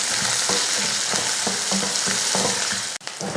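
Onion, green chili and curry leaves sauté in hot oil, a steady close sizzle with rhythmic stirring scrapes about every half second and a brief clatter near the end.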